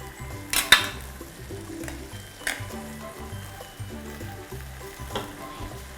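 Fish purée stirred in a cooking pot, with a few sharp utensil clinks against the pot and soft scraping over steady background music.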